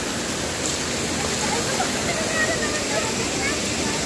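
Mountain waterfall swollen after rain, a steady broadband roar of rushing water that holds constant and loud throughout, with no voices over it.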